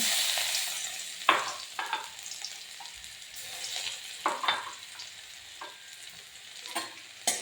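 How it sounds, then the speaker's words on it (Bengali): Garlic dropped into hot oil with cumin and radhuni in a pan, a steady soft sizzle broken by repeated clinks and scrapes of a spoon stirring, close and moderately quiet with no voices. "আমি এবার রসুন দিয়ে দিচ্ছি।"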